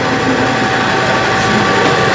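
A museum aircraft piston engine drones steadily throughout, a continuous low rumble with a constant mechanical hum and no pauses.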